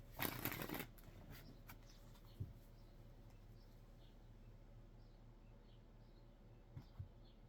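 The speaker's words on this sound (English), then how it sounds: "One more shuffle." Tarot cards are shuffled close up in a quiet room, a brief burst of riffling at the start followed by a few soft taps and faint handling noises.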